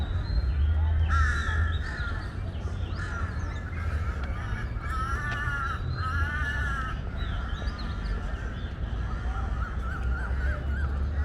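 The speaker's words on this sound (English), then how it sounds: "it's interesting to see all these crows around it" Several crows caw repeatedly in harsh, overlapping calls against a steady rushing background in Bangkok's Lumpini Park in the early morning, some near and some farther off.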